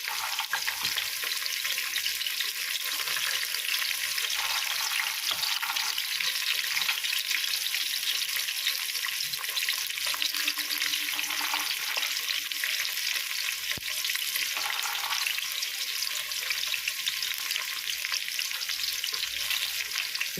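Green chili and mint fry in hot oil with a steady, close sizzle that hisses evenly throughout, with no voices.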